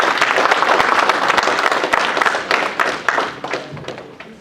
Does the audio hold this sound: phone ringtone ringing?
no